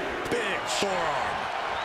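A sharp body slam in WWE 2K24 as one wrestler hits a desperation clothesline, a quick thudding impact set against a steady arena crowd, with game commentary talking over it.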